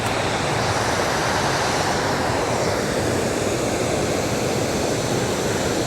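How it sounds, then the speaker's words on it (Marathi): Heavy rainwater rushes down in torrential downpour, pouring continuously with a loud broadband roar like a waterfall, steady throughout with no voices. "हे बघा पाणी कसं आले सगळं एकदम धबधबा"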